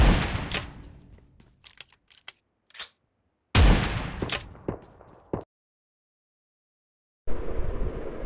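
Shotgun blasts in the mobile battle-royale game PUBG Mobile come as a few sharp, loud, separate reports with decaying tails and short silent gaps between them.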